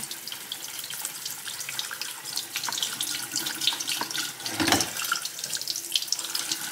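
Kitchen tap runs steadily while vegetables are rinsed under it, a continuous hiss of water with a brief louder splash midway, close and alone without talk.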